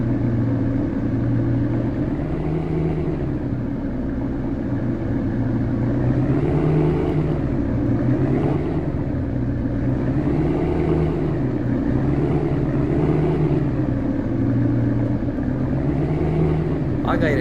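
Classic car engine in the Real Car Parking mobile parking game, a continuous mid-pitched engine hum that rises and falls gently as the car reverses and manoeuvres, steady and close throughout.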